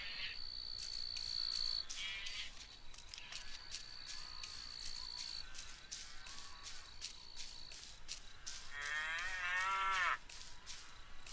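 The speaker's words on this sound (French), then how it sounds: "C'est juste les vaches." Cows moo in the countryside of Postal 2, with several drawn-out calls rising and falling over a constant high chirring of crickets, the longest and loudest moo arriving near the end.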